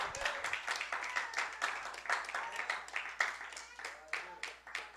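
Church congregation clapping in a quick, uneven rhythm, a crowd of hands applauding steadily and fairly quietly, with voices mixed in under the clapping.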